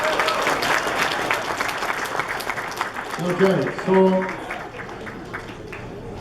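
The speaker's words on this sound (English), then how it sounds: "give me some applause, come on" A crowd at a Robbie Burns night gathering applauds in a steady wash of clapping, moderately loud and fading toward the end, with someone talking briefly over it.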